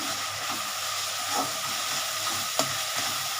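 Ginger paste is stirred into hot oil in a frying pan for a doi katla fish curry, a steady hissing sizzle with a few spatula scrapes and one sharp clink near the end.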